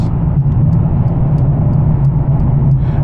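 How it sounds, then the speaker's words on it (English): Steady low rumble inside a moving Mercedes CLA45 S AMG, with a constant whooshing wind roar over the engine drone and no talking. "there is a lot of wind noise in this car"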